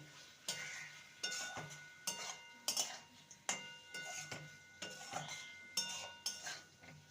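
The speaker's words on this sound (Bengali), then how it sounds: "আর দিয়ে দেবো ধনে পাতা কুচি ভালো করে মিশিয়ে নেব" A spoon repeatedly scraping and clinking against a pan while stirring spiced masala potatoes with chopped coriander, a steady rhythm of metallic strokes about once a second over a faint sizzle, quiet and close.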